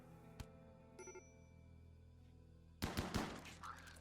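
A short burst of rapid gunfire from the video game Rimworld crackles out after a near-silent stretch with a few faint tones and a click, fairly quiet overall.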